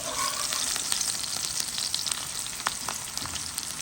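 Onions frying steadily in a pan with a dense, close crackling sizzle that runs unbroken at an even level, with no voices over it.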